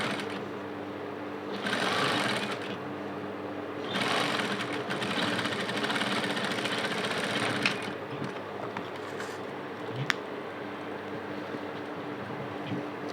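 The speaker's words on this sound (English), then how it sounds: "so I'll sew the other side also." A sewing machine stitches casing for corset boning in bursts of rapid mechanical whirring, pausing between runs, with a few small clicks.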